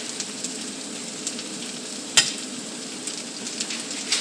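Steak pieces fry in a hot pan, a steady crackling sizzle with small pops throughout and one sharp clack of a utensil about halfway, no voices.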